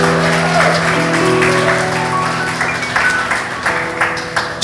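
An audience at a Christmas church service claps continuously in a dense wash, with sustained musical tones from instruments ringing underneath throughout.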